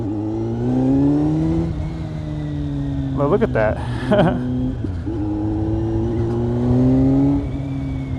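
A Kawasaki Z900 motorcycle with a Leo Vince GP Corsa slip-on exhaust hums steadily nearby, rising and falling in pitch as it revs moderately, with a voice speaking briefly over it.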